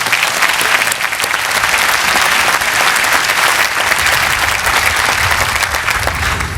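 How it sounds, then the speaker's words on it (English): Sustained audience applause fills a Pitzer College 2016 commencement ceremony, dense and even clapping from a large crowd lasting throughout without a break. "let's give her a round of applause"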